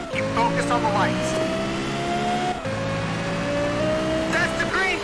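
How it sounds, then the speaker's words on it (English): A racing car engine in the Shift 2 racing game holds a steady, loud drone with a gear change partway through, while people talk over it. "Good sounding car."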